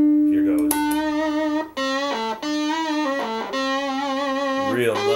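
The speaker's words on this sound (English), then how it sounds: "when you kick on the distortion, you get a buzz tone, which is very cool" Guitar played through a UMI Buzztone Expander pedal with its distortion engaged, giving a buzzy, reedy tone; several sustained single notes and short phrases ring clearly, close and moderately loud, with no talking.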